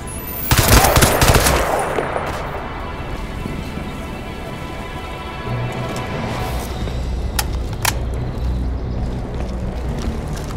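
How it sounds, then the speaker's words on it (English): Gunfire in the video game Crysis 2: a dense, loud burst of automatic fire opens, then sporadic sharp shots ring out over steady rumbling ambience. "Shots fired!"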